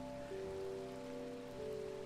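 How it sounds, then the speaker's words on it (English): Rain falls softly in a video game world, a faint, steady patter beneath low sustained musical tones. "I see it's all wet and rainy and yucky outside."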